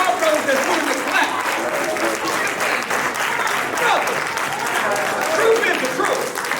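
A small handful of listeners at a lecture hall clap in a sustained, fairly loud patter, with murmuring crowd voices underneath.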